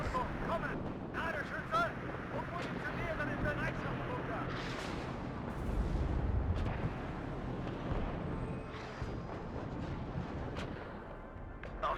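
Artillery fire in the real-time strategy game WARNO, a dense rumble of distant booms and crackling shots rolling on continuously, with a heavier low surge midway and voices talking over the battle.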